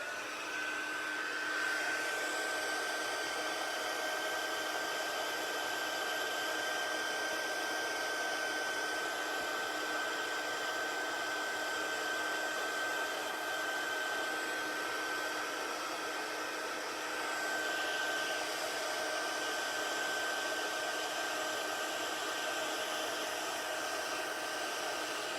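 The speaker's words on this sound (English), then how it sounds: "we're going heat embossing again, so mind your volume" A heat embossing tool blows hot air in one loud, steady, unbroken roar with a constant high whine, running alone for the whole stretch.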